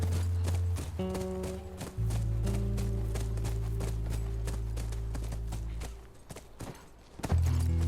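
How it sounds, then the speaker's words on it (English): In The Last of Us, a horse's hooves clip-clop in a steady walking rhythm over a sustained low droning game soundtrack, the hoof taps moderately close and fairly quiet, with no speech. "That's our horse. She's got to be there."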